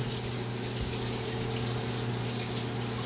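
Water runs steadily from the spray in a public shower, a broad constant hiss with a faint low hum beneath it, close and unbroken throughout, with no talking.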